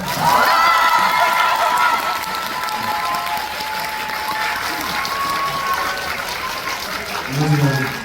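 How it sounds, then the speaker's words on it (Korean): Audience applause at a Korean film screening Q&A, a dense steady wash of clapping with some cheering, loud throughout and swelling again near the end. "박수를 쳐주시면"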